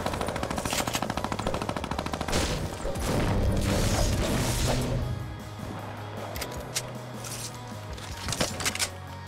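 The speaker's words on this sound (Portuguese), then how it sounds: "já estou ouvindo tiros aqui" Gunfire in a first-person shooter video game, bursts of rapid automatic shots with heavier booms and crashes, loud at first, then sparser cracks at a distance.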